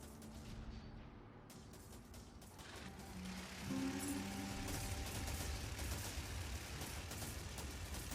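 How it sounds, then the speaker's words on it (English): Guns on a modded tech firing at targets on a TerraTech firing range, a quiet, dense rumble of rapid shots that swells and holds steady under a mechanical drone. "The guns lock on instantly, and they hit the bullseyes of the target"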